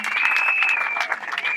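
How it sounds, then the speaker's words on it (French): Applause from an audience at an outdoor political rally in Libreville, greeting bishops and pastors: a dense, steady burst of clapping over a sustained high tone. "je voudrais qu'on acclame pour tous les évêques et tous les pasteurs"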